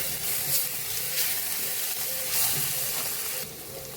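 Ground cumin and coriander spices fry in oil in a pan over low heat, making a soft continuous hiss and sizzle with faint stirring, fairly close and without talk.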